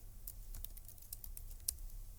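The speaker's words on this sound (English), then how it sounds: "Here I am typing Imran." Someone types on a computer keyboard while entering data for an HTML table, with quick, irregular clicks of keys close up and one sharper tap near the end, and no talking.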